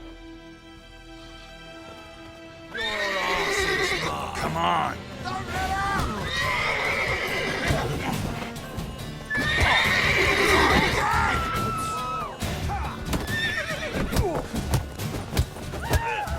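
Horses neigh and whinny loudly several times over hoof clip-clops in The Witcher 3: Wild Hunt, mixed with shouting voices and background game music, fairly close and busy.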